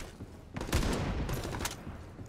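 AK-12 rifle gunfire in the video game Ironsight, a rapid burst of loud, punchy shots close up, followed by further clustered shots and trailing echoes in the game environment.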